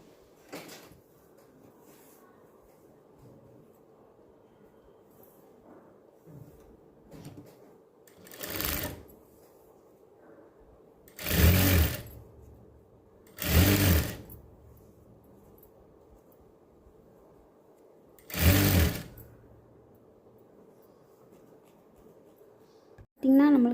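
Short bursts of a sewing machine stitching a blouse back neck seam, four separate runs spaced across a quiet room with soft handling noises and a voice speaking in between.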